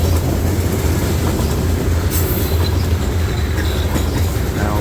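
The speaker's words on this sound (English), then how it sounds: "more tankers and hoppers, scrap hoppers, more boxcars, more gondolas loaded with scrap iron" A long freight train of hoppers, boxcars, tankers and gondolas loaded with scrap iron rolls past close by with a loud, continuous rumble, rhythmic wheel clatter and a brief high squeal.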